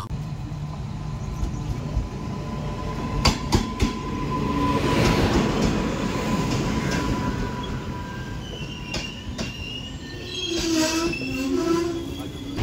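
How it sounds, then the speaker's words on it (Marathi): A passenger train pulling away and running, with wheels squealing and rails clattering over a constant low rumble, close and continuous. "आता आम्ही ट्रेनमध्ये बसलो आहोत आणि आता स्टार्ट झाली आहे ट्रेन"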